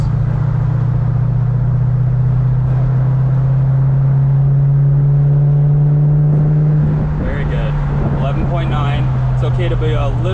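Supercharged Lexus GS400 engine lugging at low RPM under partial throttle, a steady low rumble with wind noise from open windows throughout, engine tone shifting slightly near the end.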